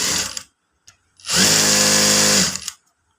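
A sewing machine stitching a Katori blouse, a short burst of motor whir followed by a longer steady run of about a second and a half, close and loud.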